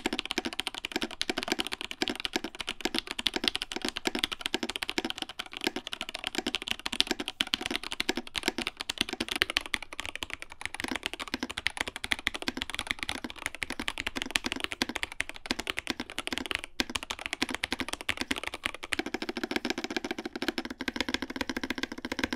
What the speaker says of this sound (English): drastically changing the sound of your keyboard